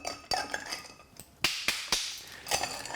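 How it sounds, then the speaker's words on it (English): Ice clinks against glass as a cocktail is stirred with plenty of ice, giving close, irregular sharp ticks and taps that come in scattered bursts with no talk over them. "Anytime you stir, yeah, it's a little bit loud, I'll talk in the interim."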